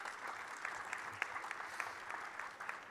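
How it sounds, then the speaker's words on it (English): Audience at a literature festival panel in Bengaluru applauding steadily, a fairly quiet, distant wash of many hands clapping with a few sharper claps standing out, and no one talking over it. "I think this would be the appropriate time for you to give her a round of applause"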